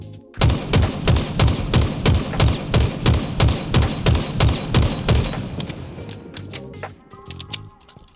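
Bandit rifle fire in a video game, a rapid string of about a dozen loud, evenly spaced gunshots over roughly six seconds, then a lower, quieter mechanical rattle once the shooting stops.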